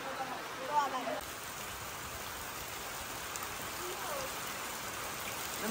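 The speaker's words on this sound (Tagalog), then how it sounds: "Ang lakas ng ulan, grabe" Steady broadband hiss of heavy rain falling, continuous and fairly quiet, with no voices.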